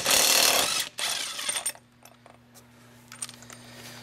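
An electric ratchet spins a nut off on a Polaris Ranger mid-size during a lift kit install, giving a loud close whirring burst of about a second, a second shorter burst, then quieter clicks and handling noise over a low steady hum.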